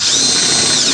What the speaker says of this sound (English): let's go ahead and take apart all these screws. Drilling everything.